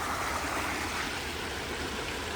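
Running water gives a faint, steady rushing trickle over a short moment, quiet and unbroken, with no voices.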